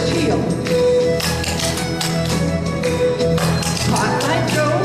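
Clogging dancers' shoes tapping out steps including the Irish heel, a dense, loud run of rhythmic taps and heel strikes with music or crowd noise filling the background throughout.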